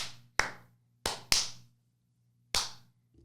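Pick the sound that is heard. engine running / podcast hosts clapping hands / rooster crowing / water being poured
podcast hosts clapping hands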